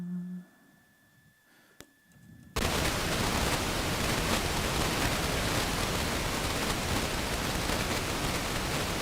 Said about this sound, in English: I also have a noise module, so it outputs just noise.